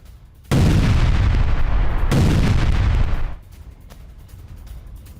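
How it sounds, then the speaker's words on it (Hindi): A loud, close blast from a drone strike on a building in Russia, a heavy boom with a second burst about a second and a half later, rumbling for roughly three seconds before dropping to low background noise. "तो सुनिए आपने धमाके की आवाज"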